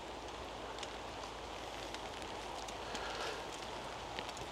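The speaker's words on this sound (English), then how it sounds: "we're actually getting another downpour at the minute" A rain downpour patters steadily on leaves and ground in muddy woodland beside a stream, a soft, dense hiss with scattered louder drops close by, no voices.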